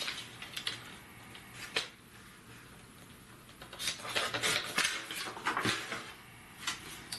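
Paper is cut at a marked line for a pop-up scrapbook page, a close, dry scratching and crisp slicing in irregular bursts with light taps between, and no talking.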